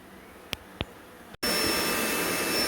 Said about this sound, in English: so I bee vac'd around the hive box first, just so that I could start moving around without stepping on bees